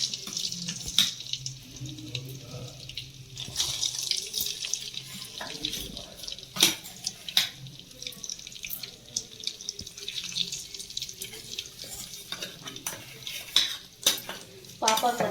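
Ground herbal paste for homemade hair oil hits hot coconut oil, giving a watery sputtering sizzle with repeated sharp clicks and scrapes of stirring, fairly close and uneven.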